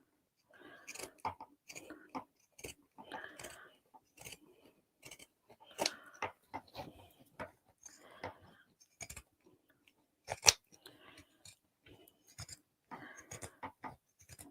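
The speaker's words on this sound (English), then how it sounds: "So I'm going to trim down on that side." Scissors cut through thick fabric in a series of close, crisp snips and crunchy chomps, irregular in rhythm with short pauses between cuts and no talking.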